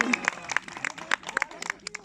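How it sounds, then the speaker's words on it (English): An audience at a zoo cheetah show gives scattered, moderate applause, with irregular claps mixed among voices and crowd noise. "You guys can give her a round of applause."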